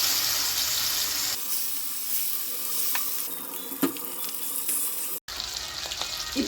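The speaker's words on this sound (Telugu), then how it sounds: "మ్యారినేట్ చేసి పెట్టుకున్న పీసెస్ని బాగా ఫ్రై చేసుకోవాలండి" Marinated korameenu fish pieces fry in hot oil with a steady, crackling sizzle, broken by a sharp clack near the middle and a brief dropout toward the end. No voices are heard.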